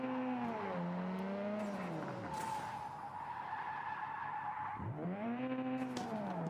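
A car skids through a full U-turn on the emergency brake in a mobile racing game, its long tire screech bending in pitch over a steady engine drone, loud and continuous with no voices.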